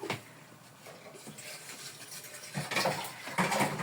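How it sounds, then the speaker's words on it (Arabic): Water is poured into an electric kettle in a home kitchen during cooking, a soft running splash that swells louder toward the end, with faint clatter around it. "نرمي بقى ميه في الكاتل"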